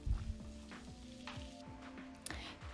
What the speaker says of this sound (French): je viens mettre de l'huile dans ma poêle et je viens faire revenir mes oignons